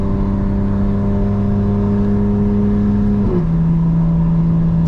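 Engine of a 2025 BMW M4 Competition driving at night, a steady loud drone holding constant revs, then a sudden drop in pitch near the end as it shifts, continuing alone without talk.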